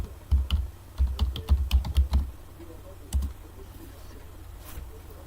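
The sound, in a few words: typing a password on a computer keyboard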